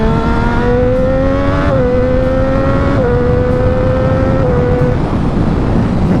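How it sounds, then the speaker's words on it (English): Triumph Daytona 675R three-cylinder sport motorcycle revving loud and close as it accelerates hard, its steady rising engine whine stepping down in pitch with several quick upshifts from the quickshifter. "Quickshifter at the top end, it just goes, it's smooth, it's powerful, it shifts."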